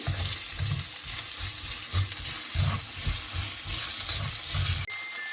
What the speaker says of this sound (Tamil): அதுக்குள்ள நாங்கள் எங்களோட வெங்காயத்தை ஆட் பண்ணுவோம். ஆட் பண்ணி இதையும் நல்லா சேர்த்து தாளிச்சுட்டு